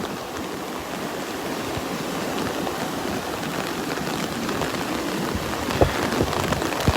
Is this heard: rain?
yes